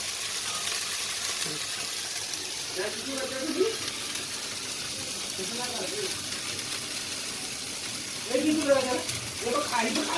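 Rice pancakes fry in a pan with a continuous soft sizzle, while a voice talks over it at intervals.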